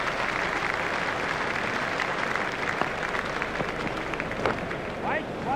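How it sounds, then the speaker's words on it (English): Steady roar of crowd applause in the cricket video game Cricket 2002, a dense continuous wash of clapping held at constant loudness throughout, with a commentator's voice faintly over it. "The crowd are giving him a great round of applause"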